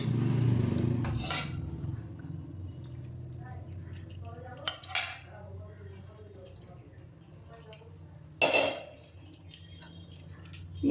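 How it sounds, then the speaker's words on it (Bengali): Chicken being mixed by hand with spices and fried-onion oil in a metal pot, scattered clinks and scrapes against the pot with a low steady background hum, a voice speaking faintly at moments. "মশলাগুলো ভালো করে চিকেনের গায়ে মাখিয়ে নিলাম"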